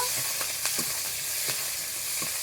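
Split green chillies and chopped onion frying in oil give a steady, close hiss of sizzling with a few soft clicks and pops scattered through it.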